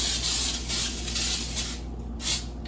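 Several short hissing bursts of Pam cooking spray into a baking pan, close by, separated by brief pauses over a quiet background.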